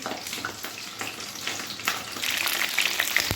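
Potato-filled capsicums fry in a pan of oil with a dense, bubbling sizzle that swells louder toward the end, broken by occasional scraping and clinking. Nobody speaks.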